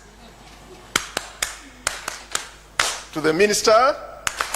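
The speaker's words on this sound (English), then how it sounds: "in my culture, we clap in an organized way" Organized clapping by an audience at a results release event, a sparse series of sharp, unison claps spaced in a loose rhythm, with someone briefly speaking between them.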